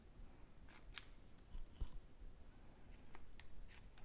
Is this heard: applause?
no